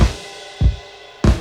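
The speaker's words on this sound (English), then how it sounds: "we also added in some cymbals to help us transition into the chorus." Crashing cymbal swells from an indie pop arrangement, a long bright wash of metallic shimmer with low drum thumps landing beneath at regular intervals, ending on a fresh loud crash.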